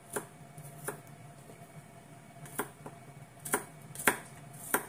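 Knife chopping food on a cutting board, a handful of sharp, irregular taps spaced apart, faint and close over a low steady hum.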